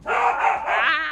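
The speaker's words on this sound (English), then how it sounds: "Dogs." Dogs bark in a dark fantasy video game, a close, loud burst of snarling yelps and a rising whine, with a man's brief exclamation over it.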